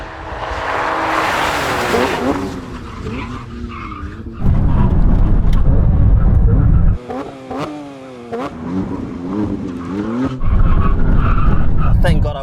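Porsche 911 GT3 RS and Maserati MC20 braking hard from speed, loud tyre squeal and skidding mixed with engine roar in repeated runs, with someone talking over parts of it.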